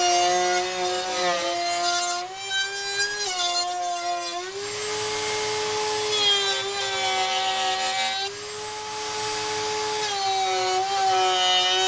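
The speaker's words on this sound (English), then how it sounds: "I've put a 1/2 inch bit in my router table, and I'm just going to make a groove or wrap it all the way around" A router table fitted with a 1/2 inch bit cuts a groove in scrap wood, giving a loud, steady high-pitched whine that shifts in pitch as the piece is fed, with cutting noise underneath.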